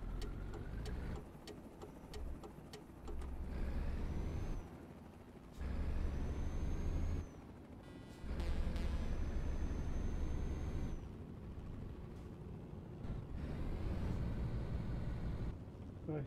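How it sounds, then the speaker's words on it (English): Mercedes-Benz Actros MP2 truck in Euro Truck Simulator 2 with steady engine drone and periodic low surging bursts of engine braking, plus a few short air-brake style hisses, close and fairly loud throughout. "Nice bit of engine braking."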